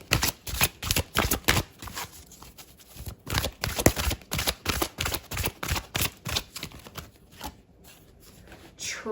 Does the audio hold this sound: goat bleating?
no